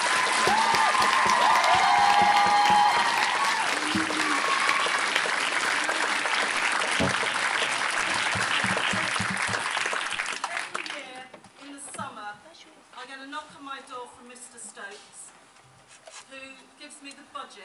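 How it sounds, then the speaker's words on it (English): A crowd at a school Wizard of Oz performance breaks into loud, sustained applause that gradually fades after several seconds, giving way to scattered sounds and a voice speaking. "Just a really big round of applause to the staff."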